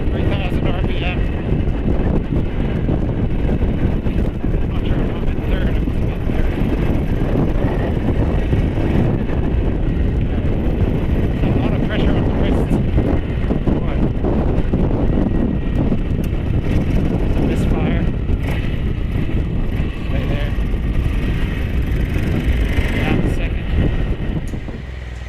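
Motorcycle engine held around 3,000 RPM with heavy wind buffeting, picked up by a GoPro Hero9 hung upside down on a Bell Bullitt helmet mount: a loud, steady roar that runs unbroken for the whole stretch.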